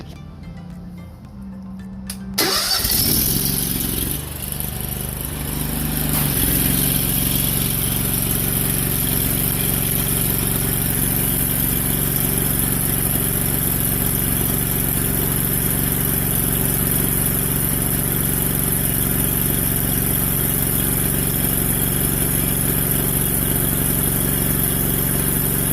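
A rebuilt Enviro Spec Super Suds Sucker carpet extractor starts up and runs continuously, a loud, steady motor hum and whine that holds unchanged for over twenty seconds after a brief quieter start.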